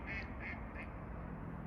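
Several ducks quack in a short series of about three calls at the start, fairly close over steady low background rumble, with no talking.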